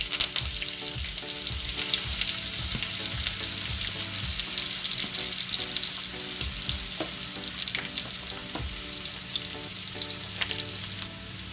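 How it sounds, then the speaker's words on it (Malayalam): Thinly sliced onions fry in hot oil with mustard seeds and curry leaves, a continuous bright sizzle with scattered pops and soft stirring clatter, no voices present. "ഇനി നമുക്ക് 2 സവോള കനം കുറച്ച് അരിഞ്ഞതാണ് നമുക്ക് ഇതിനകത്തേക്ക് ഇട്ട് കൊടുക്കാം."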